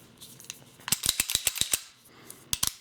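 The slides of SIG P226 pistols are worked during a safety check, giving sharp metallic clacks and snaps, with a quick cluster of clicks in the middle and a couple more at the end, close and without talk.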